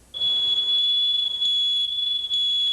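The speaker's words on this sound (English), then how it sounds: "When your detector sounds off" A home smoke detector sounds during a fire drill, a loud, piercing continuous electronic tone close by, steady with brief dips, and no one speaking.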